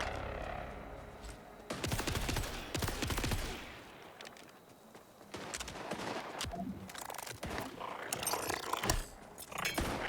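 Dense gunfire from the video game Borderlands 4 sounds in loud, rapid bursts and fusillades, with roaring effects and crunching impacts mixed in.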